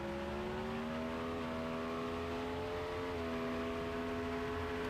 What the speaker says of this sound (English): A 250-mile-an-hour shot down the Chicago drag racing surface